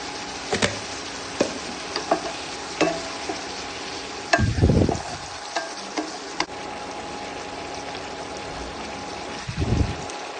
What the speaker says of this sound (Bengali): দেখতেই পাচ্ছেন এটা এবার ফুটছে।